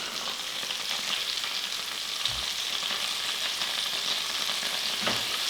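A flounder fillet from a UK catch fries in a pan, giving a steady, even sizzle throughout with a couple of faint low knocks.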